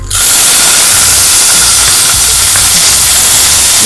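Rice tipped into a hot pan of fried vermicelli bursts into a loud, close, continuous hissing sizzle that holds steady throughout, with no talking.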